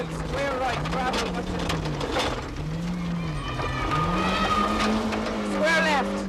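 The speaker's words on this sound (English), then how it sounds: "We can now experience the Kilcommon stage from inside Kevin McCarthy's Mac 2's Peugeot" Inside Kevin McCarthy's Peugeot rally car on the Kilcommon stage of the 1994 Rally of the Lakes, the engine roars loudly and constantly, its pitch rising and falling through gear changes, while a voice talks over it.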